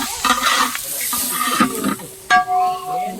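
A pan of food is stirred over heat, a steady sizzle of frying under repeated scraping strokes of a spoon, close and loud with no talk.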